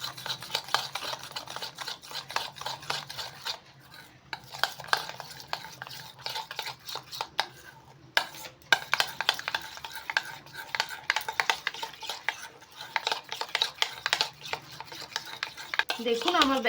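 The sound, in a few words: stirring batter with turmeric, salt and black pepper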